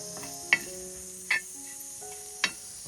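Raw mango and small dried shrimp are stir-fried for kairi javla fry, giving a steady soft sizzle broken by three distinct scraping stirs of the spatula against the pan.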